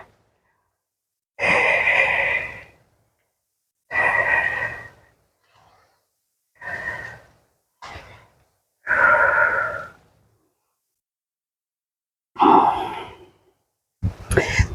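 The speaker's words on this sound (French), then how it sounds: "et on respire." Slow, deep breaths during a stretching exercise, a series of long audible exhales and sighs spaced several seconds apart with silence between, close and fairly loud.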